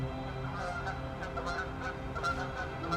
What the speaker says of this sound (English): Okay, it's geese, okay.